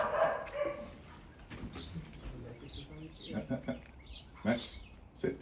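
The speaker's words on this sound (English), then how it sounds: "he hears the dog barking" A dog barks a few times at a distance during a poodle's homecoming, short sharp yelps scattered under a voice and a busy outdoor background.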